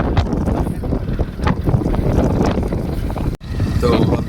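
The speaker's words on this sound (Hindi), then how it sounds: "सुबह सुबह ठंडी हवाएं चल रही है।" Cold morning wind buffets the microphone outdoors in a village, likely while riding a motorbike: a steady, loud low rumble with gusty swells that drops out briefly near the end before resuming.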